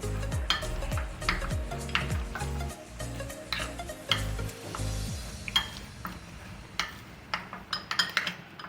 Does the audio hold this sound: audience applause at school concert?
no